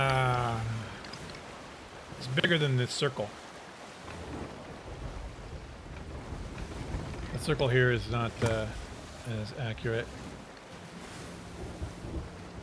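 Rain and a rumbling thunderstorm at sea in the pirate video game Sea of Thieves, a steady wash of rain and low rumble under someone talking intermittently throughout.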